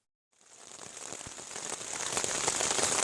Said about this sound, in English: It's raining. I'm sure you can hear that.